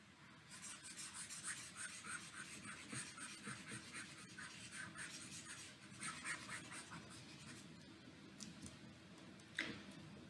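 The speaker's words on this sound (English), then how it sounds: "Okay, so let me rub off the rest." A chalkboard is wiped clean in a lecture on isotropic materials, a steady rhythmic rubbing and rasping of strokes going on for about ten seconds, quiet and close, with a few taps and no talk.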